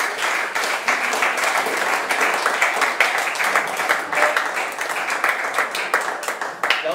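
Sustained applause from an audience at a sports club's awards ceremony, steady dense clapping throughout with no gaps, moderately close and filling the room.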